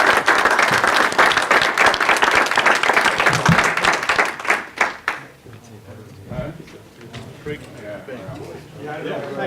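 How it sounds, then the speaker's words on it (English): Audience applause for panelists at a pitch event, dense and loud for about five seconds, then tapering off as scattered claps and talking voices take over. "let's give them a round of applause"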